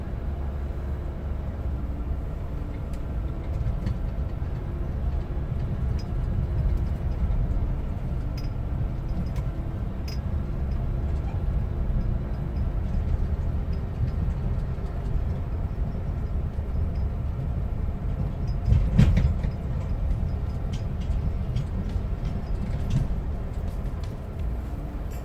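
A vehicle reversing slowly with a trailer in tow, sped up, gives a steady low engine rumble and road drone throughout, with a brief louder thump near the end.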